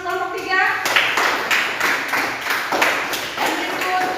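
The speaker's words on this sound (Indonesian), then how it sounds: "Tepuk tangan untuk kelompok 3." Schoolchildren in a classroom clap for a presenting group, a few loud irregular bursts of hands and thumps mixed with children's voices and chatter, close and busy.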